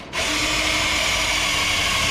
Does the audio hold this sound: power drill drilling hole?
yes